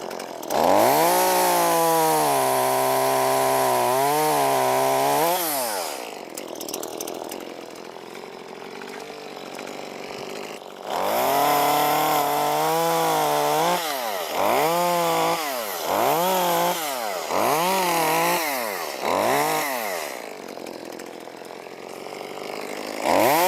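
Chainsaw cutting wood for firewood, loud and close, revving high as it bites through the log, dropping back to a lower idle, then cutting again in a series of rising and falling pitch sweeps.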